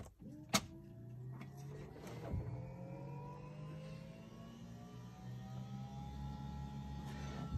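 An electric fuel pump driven by a PWM fan controller module, its duty being raised, hums and whines steadily with rising tonal lines, a sharp click near the start and a low drone building toward the end.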